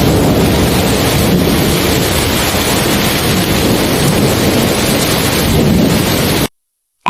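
Heavy rain pours steadily through a night thunderstorm, with a dense, loud roar of downpour and low rumbles of thunder running unbroken for most of the stretch before cutting off abruptly near the end.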